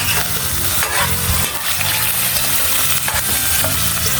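Meat stirred and frying in a hot pan, a loud, steady sizzle close up, with repeated scraping stirs every second or so and no talk.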